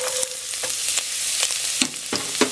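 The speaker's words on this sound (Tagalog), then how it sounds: "Then, mainit na yung cooking oil. Lagay po natin yung garlic." Garlic sizzles and fries in hot cooking oil in a cooking pot, a constant hissing crackle punctuated by a series of scraping stirring strokes, with no talking.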